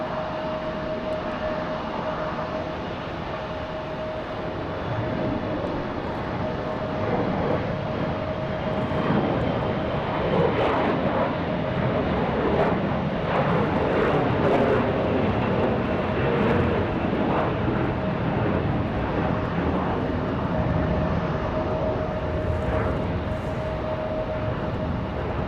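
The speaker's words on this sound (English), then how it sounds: "Looking like an older 737-9 for United." An older United Boeing 737-9 airliner departs at night from Raleigh-Durham airport, its jet roar sustained and fairly distant, swelling slightly midway and holding steady with a faint whine throughout.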